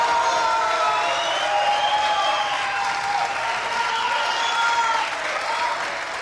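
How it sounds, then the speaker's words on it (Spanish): Audience applause for a contestant at a Chilean dance contest: dense, steady clapping fills the whole stretch at an even, fairly loud level, with a few whistles and cheers riding over it. "Vamos a repetir el aplauso, amigas y amigos, porque no sé cuál es el ganador."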